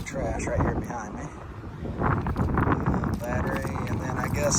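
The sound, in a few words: wind noise on the microphone at the beach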